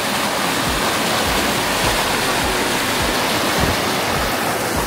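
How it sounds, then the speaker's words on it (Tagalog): Strong river water rushing steadily near Panjakent, Tajikistan, a loud continuous roar close by with no voices over it. "lakas ng tubig."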